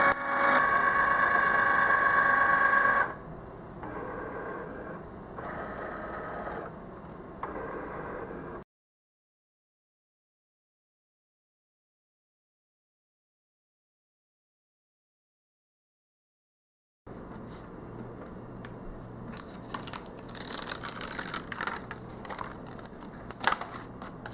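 An electronic cutting machine set for cardstock runs through its cutting pass on a mat, giving a steady mechanical whir with small crinkling movements, then stops in silence before resuming with brighter scraping and clicking.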